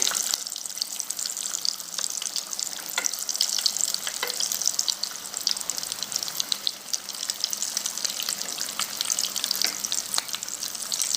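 A potato snack fries in oil in a pan, giving a continuous, fairly loud sizzling hiss with small crackles throughout and no talking.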